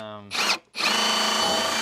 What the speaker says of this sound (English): Let me see if I can drill through whatever's under there.